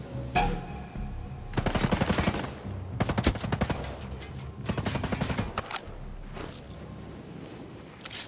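Automatic gunfire in the video game Ghost Recon Breakpoint, during a base assault, comes as several loud, rapid bursts separated by short pauses, with no talking over it.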